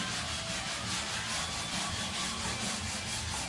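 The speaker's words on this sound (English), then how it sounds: "Now you was going to be the one sanding it there, Bubba." Hand sanding on the body of a classic car under restoration in a shop, a steady continuous rubbing scrape that runs throughout at close range, with no talking.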